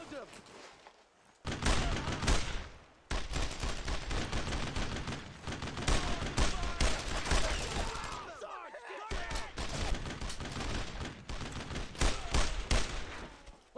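Rifle and machine-gun fire from the World War II shooter Brothers in Arms: Road to Hill 30, on Hard difficulty, rattles in long, loud, dense volleys with brief gaps while a player talks over the shooting.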